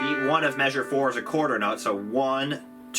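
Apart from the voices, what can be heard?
No everyday noises stand out.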